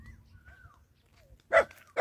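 A dog on a rural road on Lubang Island, Occidental Mindoro, lets out a couple of short, fairly close barks after a quiet stretch of faint whines and rustling.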